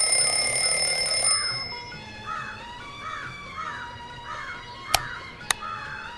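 An electronic alarm clock in the video game Cricket 26 rings in a steady repeating pattern of bright beeps over faint game background music, with a couple of sharp clicks near the end.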